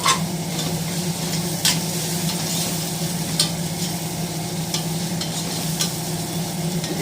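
Tomato rice masala sautéing in a pressure cooker while a spoon stirs it, a steady close sizzle with scraping strokes against the pot, no voices.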